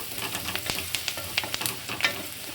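Turmeric powder frying in a pan over a medium flame, a steady close sizzle broken by sharp scraping clicks of stirring, with no talk.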